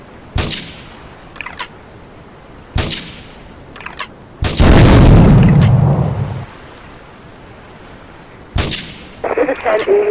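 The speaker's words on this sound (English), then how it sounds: "Investigate reports of gunfire and explosions." Gunfire and explosions in the video game GTA III: sharp separate shots, then a long, loud rumbling blast lasting about two seconds, then more bursts and clatter near the end.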